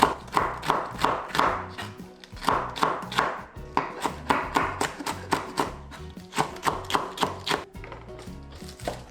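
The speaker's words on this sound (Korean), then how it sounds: "고추는 홍고추 하나, 청고추 2개 이렇게 송송 다져줄게요" A knife finely chops one red chili and two green chili peppers on a cutting board in quick rhythmic bursts of close taps, with brief pauses between runs and no talking.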